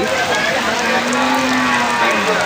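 Cattle at a busy livestock market in Kurigram district, Bangladesh, with a drawn-out low moo rising over a loud, constant crowd din.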